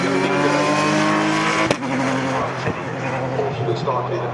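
GT3 race cars roar around Donington Park, engines loud and continuous as they come onto the start-finish straight, with a commentator talking over the racing noise throughout.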